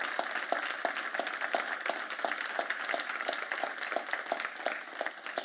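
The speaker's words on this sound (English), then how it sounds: "could y'all give a round of applause to the best city manager in the business" An audience at a mayor's State of the City event applauds the city manager with a dense, even patter of many hands clapping at a distance, sustained steadily throughout.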